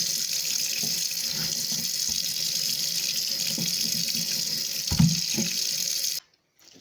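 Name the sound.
rinsing ham hock under running tap water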